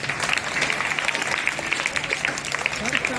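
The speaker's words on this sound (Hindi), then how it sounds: "खड़े खड़े तो ताली बजा दो थोड़ा।" An audience at a college Hindi Diwas speech event claps steadily throughout, a dense, continuous patter of hands with crowd voices mixed in.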